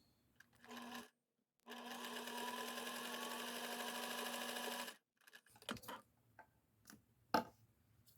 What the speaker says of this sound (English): my machine is loud, so I may mute it out when I'm actually sewing so that you don't have to listen to it rattle